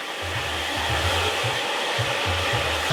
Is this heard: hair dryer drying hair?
yes